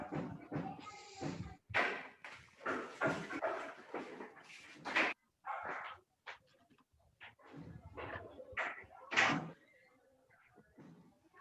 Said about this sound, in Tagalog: Sumabay pa yung aso ko sa pagsasalita ko.